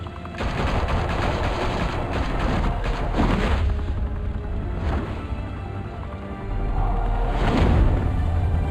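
Gunfire in the Batman Telltale Series video game comes as heavy bursts of repeated shots and booming blasts in several loud waves, with rumbling low-end impacts between volleys.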